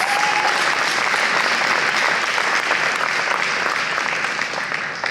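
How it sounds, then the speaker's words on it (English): A round of applause from the audience at the Indomie Heroes Award ceremony, dense and loud clapping that holds steady, then eases slightly at the end. "Oh, a round of applause."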